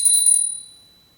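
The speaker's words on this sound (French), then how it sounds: "toute petite cloche" A very small bell gives one bright, high ting that dies away quickly, alone and close.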